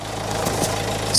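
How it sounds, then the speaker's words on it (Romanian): Dacia Logan car engine idling, a steady close mechanical hum with a low droning tone, brief and unbroken, without voices. "acum hai să facem un rol, merge motorul. Foarte frumos merge"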